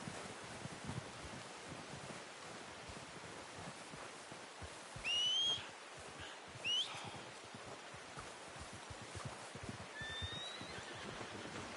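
Horse in Red Dead Redemption 2 video game giving brief whinnies and snorts over a steady wind-like outdoor ambience, fairly faint and without talk.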